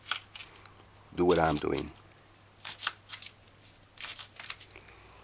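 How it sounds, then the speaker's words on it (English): Okra is sliced into wheels with a knife on a cutting board, a few crisp close chops and taps scattered between words from a speaker. "Now, cut okra wheels."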